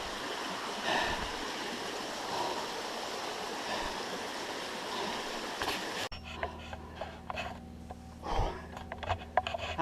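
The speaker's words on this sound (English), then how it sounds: "Here's just a nice little bridge across this nice little stream." Gentle rushing water of a small stream flowing nearby under a little footbridge on Black Rock Mountain, steady and soft, then an abrupt shift to a quieter, lower hum with faint bumps.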